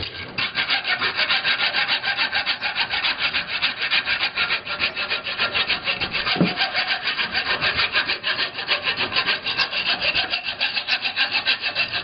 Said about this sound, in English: Cut it with a regular old hacksaw blade.